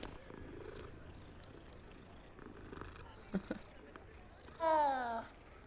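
A small cat in Hogwarts Legacy purrs softly while being stroked, a low steady rumble under faint game ambience, followed by a short bright meow-like cry near the end.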